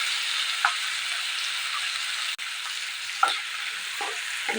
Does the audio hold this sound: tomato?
yes